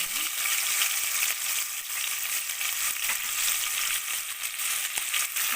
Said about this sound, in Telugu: ఆనియన్స్ బాగా వేగాలి ఇది బాగా గోల్డెన్ బ్రౌన్ కలర్ వచ్చే వరకు వేయించుకోవాలి